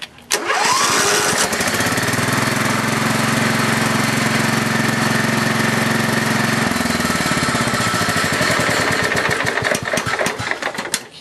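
A Kubota tractor engine cranks and fires at once, then runs steadily and loudly close by with a rough, throbbing idle, a lower droning layer that drops away partway through, and a choppier rhythm toward the end.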